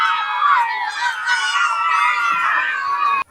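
Schoolchildren in the hills of Bulambuli cheer and shout for classmates running at athletics training, a dense, close, continuous chorus of high-pitched young voices.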